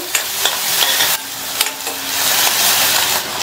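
Chopped onion, sliced garlic and curry leaves sautéing in oil in a pan sizzle loudly and continuously, broken by several clicks and scrapes of a stirring spoon.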